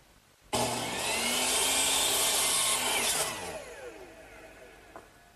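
A power saw makes a short trial cut in a wooden worktable stretcher piece, starting abruptly with a loud sustained whine and rasp for under three seconds, then spinning down and fading out, heard alone and close.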